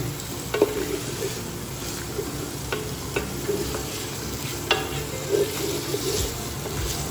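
Chicken pieces fry in a pan, a steady close sizzle running throughout, with scattered scrapes and taps of a spoon stirring the meat.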